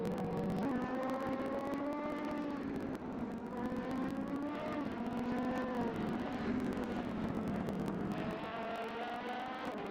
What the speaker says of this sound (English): Akashik dropping through the gears as he comes through the final corner